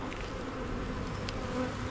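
Bees and a wasp buzzing around an open hive during an inspection, a steady close drone of many insects with no talk over it.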